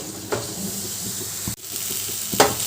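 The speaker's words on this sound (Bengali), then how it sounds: "এবার ভালো করে মশলাগুলো আলুর সাথে কষিয়ে নেবো" Ground turmeric, chili and coriander paste stir-fried with potatoes in a pan for chana paneer, giving a steady low sizzle broken by a few sharp spatula scrapes and knocks against the metal.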